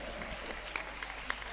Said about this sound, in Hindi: एक बार जोरदार तालियां हो जाए इस भरत के अंतर्द्वंद के लिए